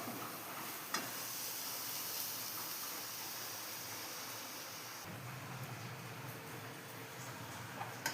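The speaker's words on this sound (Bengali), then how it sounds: "ততক্ষণ নারকোলটা ভাজতে থাকি" Grated coconut is dry-frying in a pan for a sweet filling. A soft, even hiss runs close by with little change in level. There are a couple of faint taps, and no one speaks.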